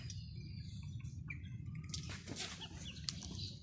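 Young Australorp chicks scramble out of a new setup, wings flapping in quick flurries alongside soft cheeping and clucking nearby, over a constant low background hum.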